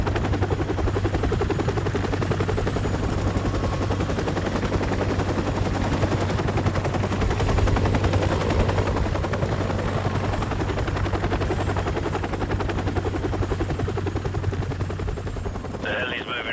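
Helicopter rotor chop from the Call of Duty: Modern Warfare Remastered game, mixed with bursts of machine-gun and rifle fire, loud and continuous throughout as a dense battle soundscape.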